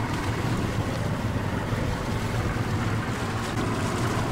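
A boat circles steadily through a frozen lake, breaking the ice into small pieces, heard as a dense continuous roar of engine, churning water and wind noise with no talk.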